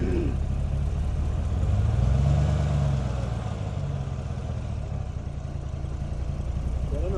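A 2014 Silverado engine idles close and steady, its pitch rising and falling in a slow surge partway through, with a constant low mechanical drone.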